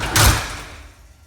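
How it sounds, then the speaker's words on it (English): Garage door pulled shut by hand, a single loud sliding rumble and thud that quickly fades away, close and with no talk. "If I manually pull the door and shut it"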